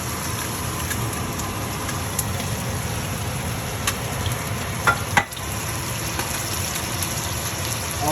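Steady sizzling and bubbling of cioppino base mix hitting a pot of wine reduced almost dry, a continuous loud hiss with a couple of brief clinks partway through.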